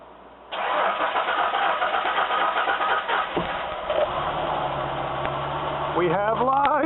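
A car engine cranks and catches on a boosted battery, roaring loud and steady close by before revving unevenly near the end, with a voice briefly audible over it.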